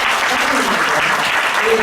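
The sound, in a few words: church congregation applause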